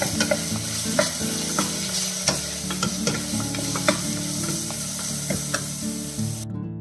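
Ginger-garlic paste sizzling in a pan for a cauliflower white kurma, stirred with a series of sharp spoon scrapes and clicks against the metal over a steady frying hiss, with no voices.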